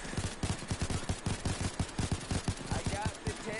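Rapid automatic gunfire from a Payday 2 heist shootout on PS4, a steady stream of sharp, evenly spaced shots rattling for several seconds at close range.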